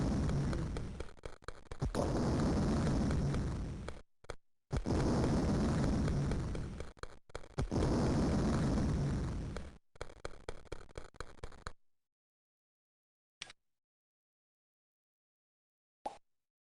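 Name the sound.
building demolishing sound effect in SimCity video game, explosion-like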